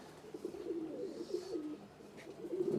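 A Giribaz pigeon coos in soft, low, rolling phrases, close by and fairly quiet, repeating steadily against a faint background hum.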